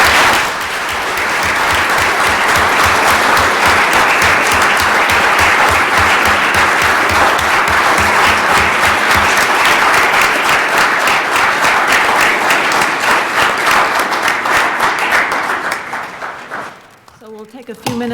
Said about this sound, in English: Great job, everyone. A round of applause.